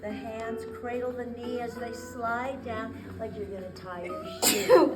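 A single sharp sneeze bursts out near the end, loud and close, while a person steadily talks through seated chair-exercise stretching instructions.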